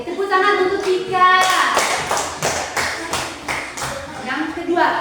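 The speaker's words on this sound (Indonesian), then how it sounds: "Oke, tepuk tangan untuk Tika." A classroom of children claps in a quick burst of applause for a student during a civics lesson, with a teacher's voice speaking before and after the claps.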